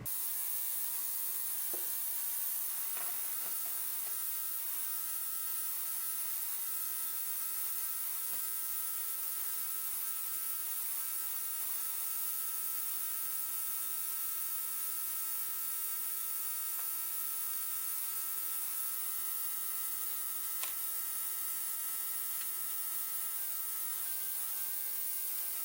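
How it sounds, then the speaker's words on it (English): Ultrasonic parts cleaner runs with dirty screws from a Singer 403A sewing machine inside, a steady high electric hum with faint rattling ticks, continuous and unbroken throughout. "I want to put them in the parts cleaner"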